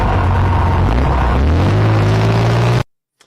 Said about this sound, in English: right at the end, we heard a nice guttural chord from that engine